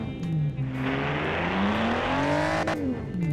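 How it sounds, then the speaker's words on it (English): A 400 hp naturally aspirated six-cylinder in the Automation game revs up and falls back, a loud, continuous synthetic engine note whose pitch climbs and drops in smooth sweeps with no other sound. "What does 400 horsepower out of 6 cylinders sound like without a turbocharger? Let's give it a rev."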